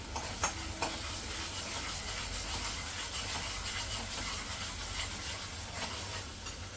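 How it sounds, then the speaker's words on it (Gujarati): Spice masala roasting and sizzling in hot oil in a home kitchen, a steady close frying hiss with occasional stirring scrapes throughout, no voices. "તેલ નાખી દીધું છે અને મસાલો શેકી નાખું"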